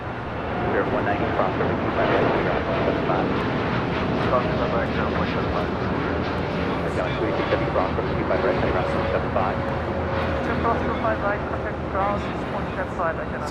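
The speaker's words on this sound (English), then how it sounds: "Doing that Aeromexico Dreamliner, now rolling it down at 25 for right." An Aeromexico Boeing 787 Dreamliner rolls for takeoff on LAX runway 25 right, a continuous engine roar with rising whine tones running underneath a speaking voice throughout, with wind buffeting the microphone.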